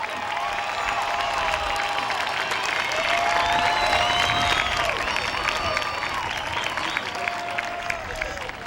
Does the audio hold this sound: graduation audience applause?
yes